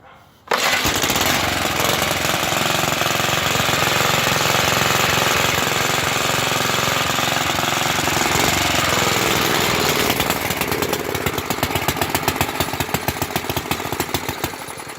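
A 1950s Merryweather rototiller with a Clinton engine starts and runs, a loud, steady, rapid-firing small-engine clatter that goes on unbroken after a brief quiet opening, with its pitch shifting slightly near the end.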